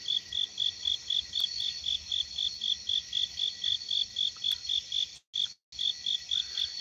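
Crickets chirp at night in steady, evenly spaced pulses, loud and close, with no talk and only a brief break near the end.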